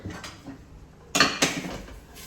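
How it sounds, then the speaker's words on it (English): A spoon scrapes and clanks twice against a pot while meat for spaghetti bolognese is stirred, two brief metallic knocks over quiet kitchen background. "I'll just quickly stir the meat."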